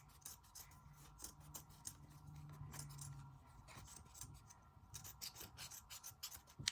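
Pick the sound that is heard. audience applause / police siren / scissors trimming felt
scissors trimming felt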